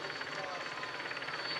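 A television helicopter flies overhead during a professional cycling race climb up the Colle delle Finestre in Italy, a steady droning whir with faint rotor pulsing that continues throughout.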